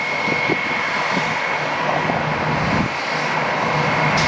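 A 23-year-old Airbus jet airliner at Atlanta airport gives off a steady, loud engine roar and whine throughout, with no voices.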